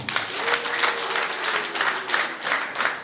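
Steady, warm applause from an audience at a Rwandan traditional engagement and dowry ceremony, rippling in waves with no speech over it.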